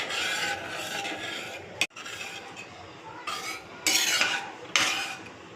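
A spoon scrapes and stirs thick dhaba-style paneer curry gravy in a pan, a close continuous rasping that is interrupted by a sharp knock and then swells in louder strokes.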